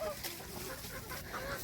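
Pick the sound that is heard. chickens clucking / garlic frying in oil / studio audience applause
chickens clucking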